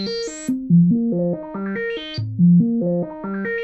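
An analog modular synthesizer sequence played through a filter driven by sample and hold with a hard-synced LFO, stepping through a repeating pattern of distinct pitched notes with bright, shifting filter sweeps, loud and alone.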